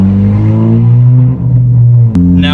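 A modified turbocharged 2018 Honda Civic Si, tenth generation, revving hard as it accelerates, the engine note rising through gears with two brief dips at shifts, loud and close.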